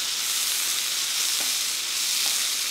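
Tomato, a few spinach leaves and coriander sizzle and fry steadily in a hot pan, a continuous bright crackle with faint stirring scrapes, close and alone without talk.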